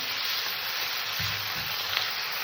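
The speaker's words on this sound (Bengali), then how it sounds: "এবার আমি এখানে আদা রসুন বাটা দিয়ে দিলাম আদা রসুনটাকে আমি একটু কষে নেবো" Ginger garlic paste sizzling and frying in a pan while being cooked down for a chicken and cauliflower curry, a steady close hiss with a few soft low thumps of stirring partway through, no voices.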